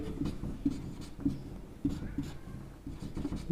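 Chalk or marker writing on a board during a chemistry lecture on coordination compounds, soft repeated strokes and taps at an uneven pace, close and quiet against room noise.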